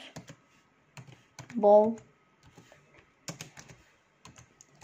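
Computer keyboard typing while building a game in Roblox Studio, with bursts of quick clicks scattered between stretches of someone talking nearby.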